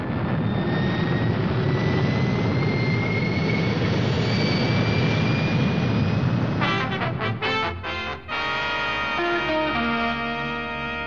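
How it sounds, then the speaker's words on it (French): Rocket engines of the Fireball XL5 fire up with a loud, steady roar and thin rising whines, ending in a pulsing, throbbing drone. No voices are heard. "Mettez à feu les réacteurs."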